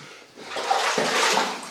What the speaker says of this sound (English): We've got lots of water.